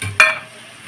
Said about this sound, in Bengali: আমি এখন ভেজে রাখা ডিমের অমলেটগুলো দিয়ে দেব।